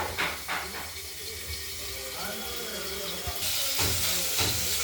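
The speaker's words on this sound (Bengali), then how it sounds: "মাছের এক দিকটা ভাজা হয়ে গেছে আরেকটা দিক আমরা ভেজে নিচ্ছি" Rohu fish fries in oil with a steady close hiss and sizzle, a few soft knocks and clatters in between, and the hiss swelling louder near the end.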